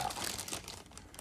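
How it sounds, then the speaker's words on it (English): Plastic packaging around a Hiya Exquisite Basic Godzilla figure crinkles in a brief, close, quiet burst of crackling. "Let's get that plastic crunch going."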